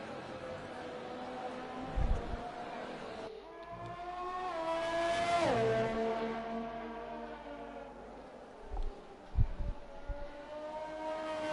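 Race cars lap a track in a racing video game, with a steady engine drone and a high revving car sweeping past, its pitch rising then dropping, plus a few soft thumps.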